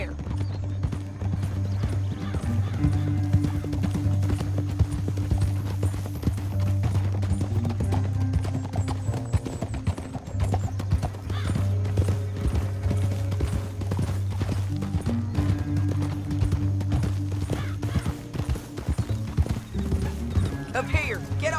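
Several horses gallop with steady, overlapping clip-clop hoofbeats and an occasional whinny in the Western video game Red Dead Redemption 2, loud and continuous beneath a rumbling music bed and intermittent talk.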